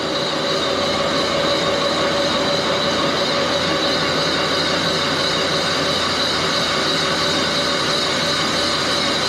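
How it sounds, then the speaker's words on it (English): An Axelson lathe bores the sleeve out of a Harley Davidson cylinder, a loud, steady machining drone with tonal hum and a constant gritty cutting texture from start to finish, no voices. "I'm cutting the sleeve totally out for sleeve replacement."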